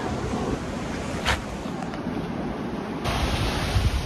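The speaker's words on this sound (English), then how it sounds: "let's go down to the beach" Ocean waves wash onto a beach at Paraty, Brazil, in a continuous loud roar of surf mixed with gusty wind noise on the microphone.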